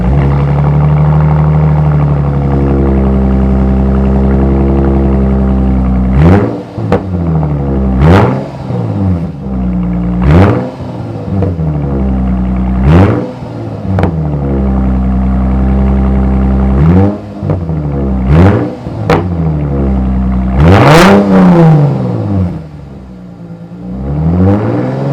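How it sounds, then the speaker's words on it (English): A BMW car drives along a road for a brake pad test, its engine humming steadily and loud up close, shifting pitch through several rises and falls as it accelerates and slows, with no voices. "Gonna be driving down this and see how well they brake."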